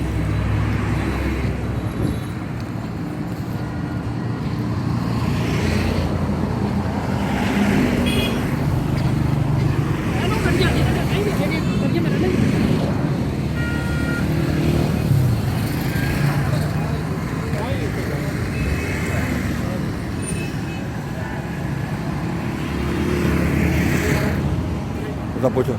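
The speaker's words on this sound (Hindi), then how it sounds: "बहुत बड़ा गाड़ियों का ये एतवार बाज़ार है।" A busy Sunday used-car market with road traffic passing steadily close by, a continuous rumble of engines and vehicles throughout, with voices talking over it.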